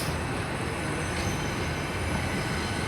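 A Class 166 diesel unit pulls into a platform at Bristol Temple Meads, giving a steady, loud rumble and rolling rail noise with no pauses.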